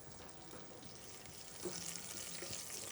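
Thyme and bay leaves frying in oil in a small pot, a soft steady sizzle with faint stirring clinks, quiet and close.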